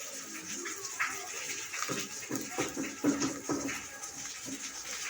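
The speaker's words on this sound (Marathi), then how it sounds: "मोटरवरती लावलेलं आहे पाण्याची टाकी वरली भरलेली आहे बघा त्याचाच आवाज येतो आहे" Water gushing steadily from an electric motor pump into an overhead water tank, a continuous rushing wash heard under kitchen clatter and a voice while methi thalipeeth is being cooked.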